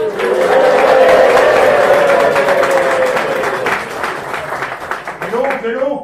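A banquet crowd at a castle knight's feast bursts into loud, sustained clapping and cheering for a knight, the dense applause filling the room and tapering off as a voice begins speaking over it.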